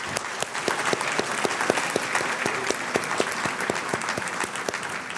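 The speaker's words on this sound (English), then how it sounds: "Please let's all show our appreciation one more time with a warm round of applause" Sustained clapping from a large audience at a West Georgia Technical College summer graduation ceremony, dense and steady for the whole stretch with faint crowd murmur beneath.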